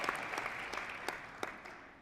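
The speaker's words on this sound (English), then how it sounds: "Yeah, deserves a little applause." Scattered, fairly distant applause rises from an audience at a city's state of the city address, steady clapping with a few louder claps standing out.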